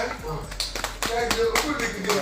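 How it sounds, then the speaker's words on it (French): Audience clapping at a lively event, short bursts of hand claps mixed with background chatter and voices, fairly close and moderately loud. "Applaudissez pour vous-même."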